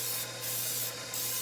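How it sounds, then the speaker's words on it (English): Two short hissing bursts of cooking spray onto a cake pan, close and fairly quiet, separated by a brief pause, with a faint steady hum underneath. "you want to take your pan and you want to spray it a decent amount with some cooking spray"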